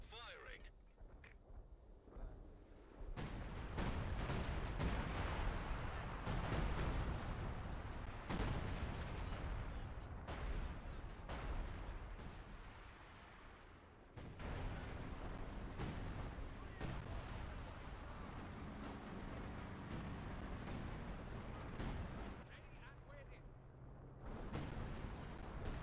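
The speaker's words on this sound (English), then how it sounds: "Artillery barrage starting as ordered. Artillery laid on target. Firing." Artillery barrage in the strategy game Company of Heroes 2, with repeated booming shell fire and explosions rumbling on after a quiet start and a sudden loud onset, mixed with game unit voice lines.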